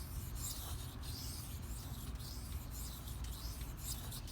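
A Benchmade Mini Barrage knife blade rasps back and forth on a 1000-grit Shapton Pro whetstone in steady, close strokes about every half second.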